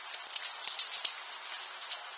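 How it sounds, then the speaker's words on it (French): A heavy evening hail shower in Tour-en-Sologne in February sounds as a dense, continuous patter of hailstones striking surfaces, with frequent small sharp impacts throughout. "il y a une sacrée averse"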